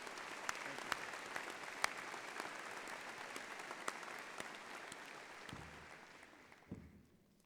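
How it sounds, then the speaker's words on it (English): A university commencement crowd gives a sustained round of applause for three speakers, even dense clapping that carries on for several seconds, then fades out near the end. "let's give them all 3 of those wonderful speakers, wonderful individuals, a round of applause"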